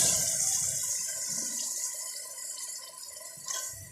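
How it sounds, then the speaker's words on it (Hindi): Soaked chana dal and its soaking water poured into a cooking pot of meat for dal gosht, a sustained splashing pour that gradually thins out, close and moderately loud. "और अब हम डालेंगे इसके रखी थी ये दाल जो है, हम अब सारी पानी समेत इसमें डाल देंगे।"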